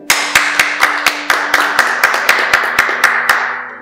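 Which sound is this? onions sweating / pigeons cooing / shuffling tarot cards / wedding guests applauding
wedding guests applauding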